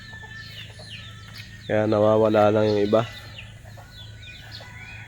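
Free-roaming farm chickens cluck around a yard while someone talks over them, his voice loudest for a moment in the middle.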